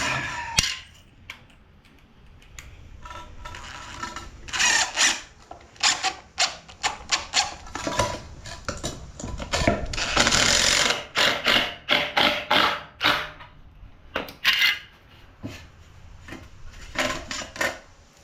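A screw is driven back into a backyard chicken coop during its build, giving bursts of close ratcheting clicks and scraping taps that start and stop in an uneven rhythm with short pauses.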